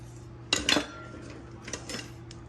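Metal spatulas clink together in a kitchen, a quick cluster of bright clattering hits followed by a few lighter taps against a low steady hum.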